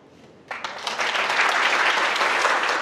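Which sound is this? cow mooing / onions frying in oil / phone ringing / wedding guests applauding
wedding guests applauding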